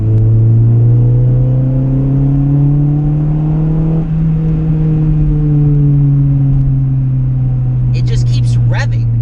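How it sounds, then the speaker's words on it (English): A de-turboed Acura Integra Type R engine holds a steady, loud rev with a deep droning hum that rises and falls slightly, continuous throughout, with a brief higher whine near the end. "It just keeps revving. It keeps going."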